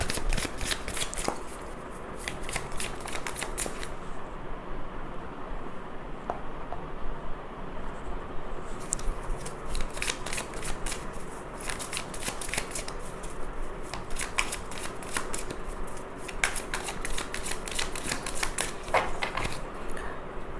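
Tarot cards being shuffled in steady bursts of crisp riffling and soft slapping, close and fairly loud, with short pauses between runs and a faint constant hum beneath.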